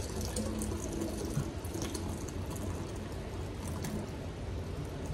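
Two quarts of orange pineapple homemade ice cream mixture are poured into a freezer container, making a continuous soft liquid splashing and trickling sound close by, fairly quiet, with no talking.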